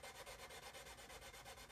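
Sandpaper rubbing a 1/72 scale model U-boat hull, a rapid rhythmic back-and-forth scratching repeated about eight times, close and quiet with no talk.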